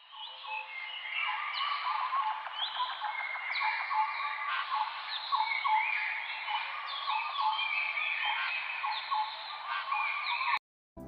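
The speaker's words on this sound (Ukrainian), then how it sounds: "це спів пташків, які вже почали повертатися до нас з теплих країв" Many birds sing and chirp together in a spring forest, a dense, continuous chorus of overlapping trills and calls, steady throughout before stopping abruptly at the end.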